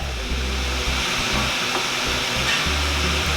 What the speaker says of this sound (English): boiling the nira. We need to keep stirring also.